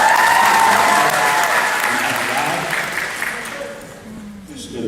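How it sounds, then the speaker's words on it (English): A crowd at a college commitment watch party applauds and cheers loudly and steadily throughout, the clapping easing slightly toward the end while voices shout over it. "The crowd fired up for the moment has arrived."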